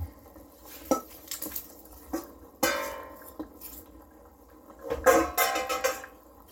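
Utensils clink and scrape against a cooking pot as onions go back into a beef pot-au-feu stew, in several short bursts of clatter with quiet pauses between them.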